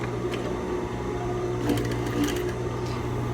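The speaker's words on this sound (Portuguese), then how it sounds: "Vou começar aqui a costura do viés sem o tecido." A sewing machine stitches a strip of bias tape with no fabric inside it, a steady close mechanical whir with faint rhythmic ticking throughout.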